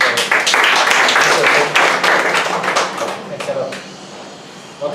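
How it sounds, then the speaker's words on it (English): Audience applause at a socioeconomic impact assessment workshop: a close, lively round of clapping that thins out over the last seconds, ending in a few scattered claps. "Give an applause first."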